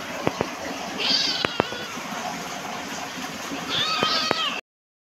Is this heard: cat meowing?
yes